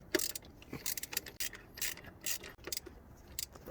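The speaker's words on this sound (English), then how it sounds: "we're gonna be using a 12mm socket to remove those 4 bolts" Ratchet wrench with a 12mm socket removing bolts on a Lexus IS200 during fuel injector replacement, a run of quick metallic clicking bursts repeating in short strokes, close and fairly loud with no talk.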